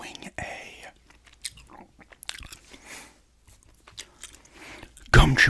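Gum chewing during a show-and-tell of roleplay props, heard as soft close-up smacks and crunchy bites between quiet whispered speech, ending in a loud burst of noise at the close.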